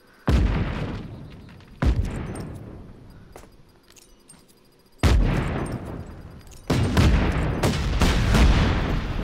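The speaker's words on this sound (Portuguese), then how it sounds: "então vamos explodir tudo ainda" Explosions in the Just Cause 3 game go off one after another, four or five loud booming blasts spaced a few seconds apart, each trailing into a rumbling decay with scattered debris crackle between them.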